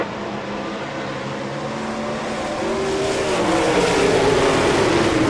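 A pack of sprint cars at a dirt-track green flag start roars together, the engine drone building steadily louder and rising in pitch as the field accelerates toward the first turn.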